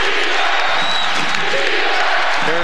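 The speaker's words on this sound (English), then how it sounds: "The crowd yelling defense." Basketball crowd at Hilton Coliseum, Iowa State hosting Kansas, roaring and chanting for defense; a dense, loud wall of yelling voices fills the arena continuously.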